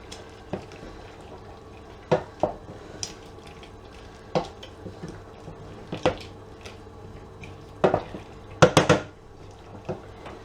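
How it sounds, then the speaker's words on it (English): A spoon scrapes and knocks against a pot while paprika pork is stirred, several sharp clinks at irregular intervals with a cluster near the end, over a low simmer, close by with no talk. "So, I'm just going to give it a bit of a stir."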